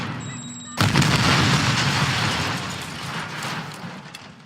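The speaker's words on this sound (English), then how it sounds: "Throwing grenade." A grenade blast in a video game, opening with a sudden deep boom after a brief quiet moment, followed by a loud, rumbling, roaring decay that lingers for several seconds with faint crackles, no voices.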